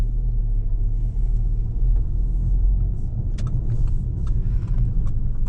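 Constant low road rumble and tyre drone inside a moving Audi TT 2.0L Quattro, a deep, even hum with light rattles and ticks over the top, steady throughout and with no voices.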